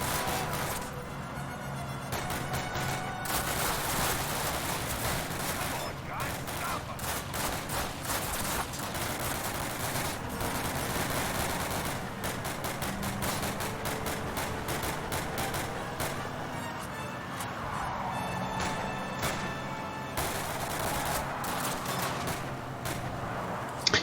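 M1 Garand rifle fire in Call of Duty 1, a dense run of sharp gunshots and bursts layered with constant battle noise, loud and continuous throughout.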